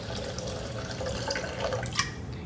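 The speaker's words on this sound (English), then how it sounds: "So I'm gonna add the water right here." Steady watery rush of water pouring into a blender, a continuous splashing stream with a brief louder splash near the end, no talking.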